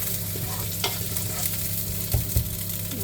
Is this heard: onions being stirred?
yes